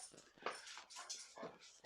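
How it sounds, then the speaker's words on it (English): A dog whimpers in a string of faint, high, quivering whines and yips, close by and quiet, with short pauses between them. "Anybody want a dog called Optimus? Scared of the finger, aren't you?"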